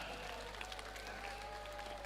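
An audience at an education anniversary ceremony claps steadily in a faint, distant wash of applause, heard against a constant low electrical hum.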